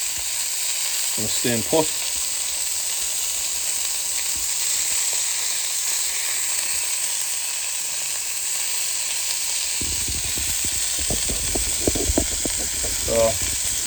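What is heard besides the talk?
sausages sizzling on a Callow 4 burner plancha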